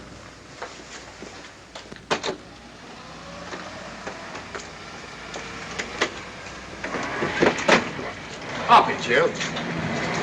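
A train travelling on rails gives a steady rumbling clatter with scattered knocks that grows louder and busier toward the end, heard under people talking.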